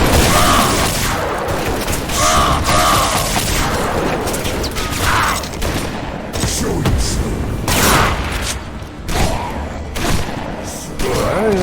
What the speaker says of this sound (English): I don't even know what's shooting at me anymore.